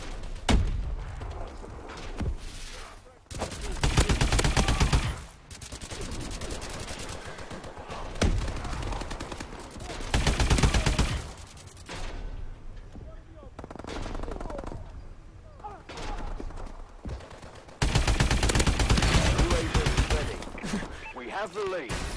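Rapid bursts of AE4 weapon fire in Call of Duty: Advanced Warfare come in loud stretches separated by quieter gaps, with rattling automatic shots, booms and game sounds, and voices heard at times.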